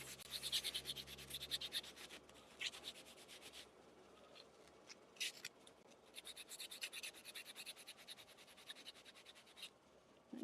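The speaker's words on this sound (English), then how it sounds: "I need to go in and bevel the edges with a blade." A blade bevels the edges of thick material with steady, faint scraping and rubbing strokes close by, in quick repeated passes with a short pause partway through.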